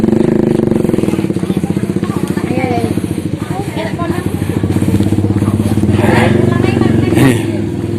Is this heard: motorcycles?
yes